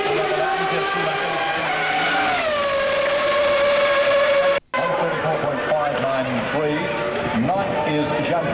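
A 1997 Formula One V10 race car screams past at the Australian Grand Prix, a loud, high-pitched engine wail rising and falling through gear changes, briefly cut, with a commentator speaking over it.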